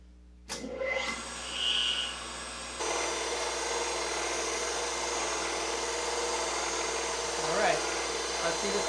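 A new 3 horsepower motor on a Reid grinder in a workshop switches on with a sudden thump and settles into a loud steady whine and hum that keeps running throughout.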